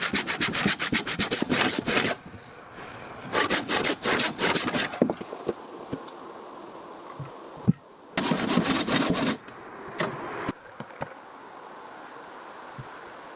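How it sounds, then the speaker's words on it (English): A chisel scrapes out the inner groove of a wooden log for a forest cabin joint, in repeated rasping strokes broken by short pauses, close and fairly loud. "With a chisel in hand, he carefully cleans out the inner groove of the wood"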